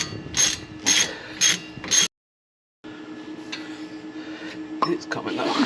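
A ratchet loosens a brake caliper bolt on a 2013 Dodge Avenger, four quick rattling bursts of clicks close up, a short silence, then continued clicking and metallic scraping under low background noise.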